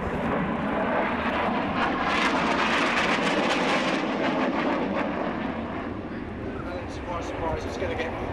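A Royal Air Force Harrier GR7A jet performs at an air display, its engine a loud, sustained roaring whine that holds steady throughout. A commentator talks over the noise.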